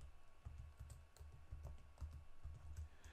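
An Excel formula is typed on a computer keyboard in quick, close keystrokes, a soft steady patter of clicks with short pauses and no talking.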